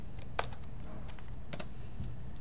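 Keystrokes on a computer keyboard while entering values into an Excel 2013 spreadsheet, a handful of quiet clicks spread over a couple of seconds against a low steady background hum, with no talking.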